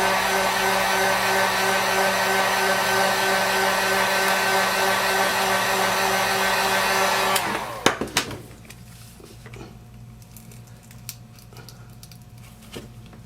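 A heat gun blows a loud, steady roar on the glass of a Samsung Galaxy S3 or S4 phone, then shuts off abruptly, leaving a few faint clicks and handling taps.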